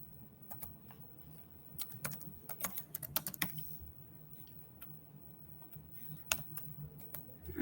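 Keys clatter on a computer keyboard during a coding session at a software automation community event, coming in irregular bursts of close, crisp clicks with brief pauses between them and no talking.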